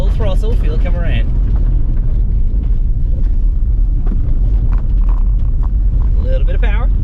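A Ford Mustang Mach-E GT Rally electric car launches hard off-road, a loud rumbling rush of tyres and wind under an excited voice that speaks throughout.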